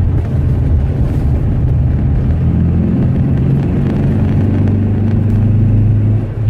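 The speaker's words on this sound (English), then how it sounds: "That noise you hear is the vibration through the steering wheel." A poorly running classic Mini idles with a continuous low rumble, the vibration coming through the steering wheel, loud and close, with no talking.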